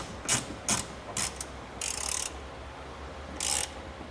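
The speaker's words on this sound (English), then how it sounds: "we'll go ahead and get that tightened down, as well as those 13mm bolts on our brackets" A ratchet tightening 13mm bolts on trailer hitch brackets for a 2022 Jeep Cherokee hitch install: short bursts of close, crisp clicking, four quick ones followed by two longer runs, with quiet pauses between.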